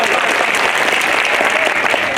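Audience at a tribal gathering bursts into loud, sustained applause, a dense wash of clapping from a close crowd that carries evenly throughout without any voice on top.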